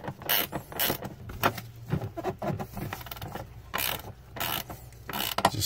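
Ratcheting wrench snugging down the mounting bolts on a plastic Dometic RV camper toilet, giving a close series of quick clicking, creaking ratchet strokes in irregular bursts, with no talk.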